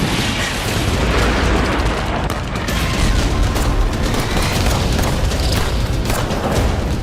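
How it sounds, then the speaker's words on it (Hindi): Gunfire and bombing explosions echo across the West Bank in Qalqilya, with a continuous roar of booms and rapid bursts of shots layered over each other, loud and sustained throughout. "चारों तरफ वेस्ट बैंक का इलाका फायरिंग और बमबारी से गूंज रहा है।"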